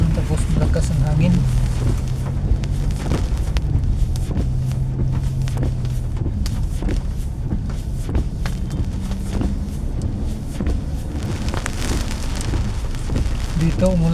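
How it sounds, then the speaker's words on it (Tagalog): Heavy rain pours steadily on a Makati street in strong wind amid traffic, a dense, continuous hiss that fills the whole stretch with occasional sharper spatters. "Ngayon umulan na naman."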